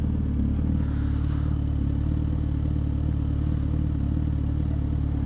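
A Suzuki GSX-S1000 motorcycle engine drones loud and steady throughout, a constant close-up hum with no break or audible rev change.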